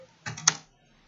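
Computer keyboard typing a command: a short cluster of a few quick key clicks, close and crisp, then quiet.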